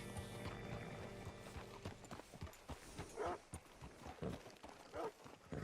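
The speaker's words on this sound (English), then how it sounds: "Hitch your horse up here." Horse hooves in the video game Red Dead Redemption 2 clip-clop at a walking pace over a low background hum, a steady run of soft, fairly close hoofbeats.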